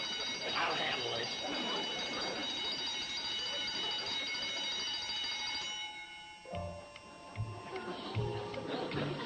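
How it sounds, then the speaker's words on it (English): A home-made intruder alarm bell in a hotel lobby rings continuously in a bright metallic clatter, loud for about six seconds before stopping while voices talk over and after it. "the alarm alerts us to the culprit that's trying to sneak in"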